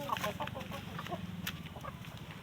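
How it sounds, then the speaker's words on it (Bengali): Desi chickens cluck in short, repeated bursts close by, a busy mix of soft hen calls over low background noise. "এই যে এটা দেশি মুরগি,"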